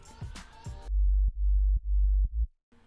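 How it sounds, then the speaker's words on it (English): A deep sub bass layer of a future house bassline made in FL Studio, pulsing in three long, low sustained notes, briefly preceded and followed by a busier track. "a sub layer, which sounds like this,"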